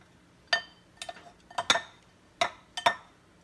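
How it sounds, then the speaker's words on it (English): A spoon clinks and scrapes against a baking dish while rice and raisins are mixed, six or so sharp, close taps and knocks spaced unevenly over a few seconds. "put the rice and the raisins into your baking dish. And I'm just going to give these a little mix up"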